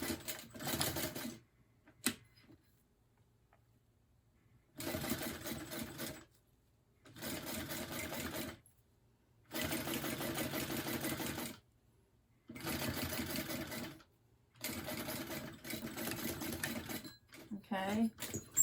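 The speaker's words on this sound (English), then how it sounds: "we're going to stitch along the top edge of the zipper overlay now to stitch this in place" A sewing machine stitches along the top edge of a zipper overlay on a purse, running in six or so steady, rapid bursts separated by short silent pauses.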